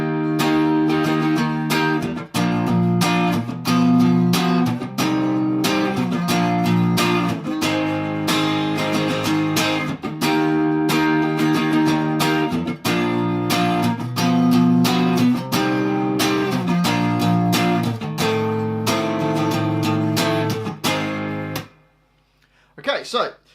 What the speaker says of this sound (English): So it starts off with the acoustic guitar clean,